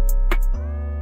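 A short burst of a music track produced in Reason 10 plays loud and alone, with drum hits over a sustained tone that drops into a steady bass drone after about half a second, as an automated tempo change is applied.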